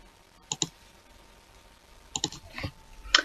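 A computer mouse clicks crisply, one double click early on, then a quick cluster of clicks near the end, close and fairly quiet in a still room.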